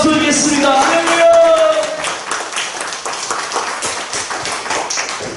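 Church congregation clapping in praise, a broad wash of applause from many hands filling the sanctuary, steady and moderately loud, with a voice carrying over the start.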